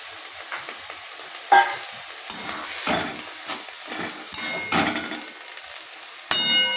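Nigella seeds, whole garlic cloves and chillies crackle and sizzle in hot oil, with sharp spattering bursts and clanging stirring spikes over a steady frying hiss, close by.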